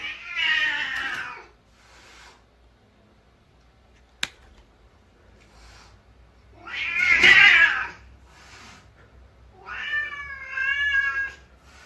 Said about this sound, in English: This is the video of the weird noise Jake's cat made